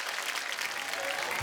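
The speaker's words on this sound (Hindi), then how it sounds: "आप सबकी जोरदार तालियों के बीच please welcome the very beautiful" Studio audience applause on a comedy talk show greets actress Neha Dhupia's entrance, a steady, dense wash of clapping that runs through the whole moment without letting up.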